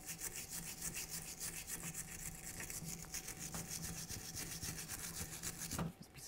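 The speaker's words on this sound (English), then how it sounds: "Use a wire brush, make sure everything's clean." A wire brush scrubs the rear differential yoke of a 1999-2006 Chevrolet Silverado 1500 in quick, steady back-and-forth strokes, a continuous close scratchy rasp with a slightly heavier scrape near the end.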